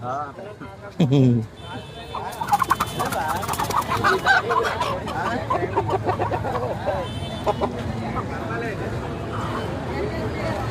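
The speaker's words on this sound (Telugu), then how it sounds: "చాలా పెద్దగా ఉంది కోడి." A large hen at a weekly market lets out a loud, close squawking cluck near the start, followed by busy market noise with people talking over it.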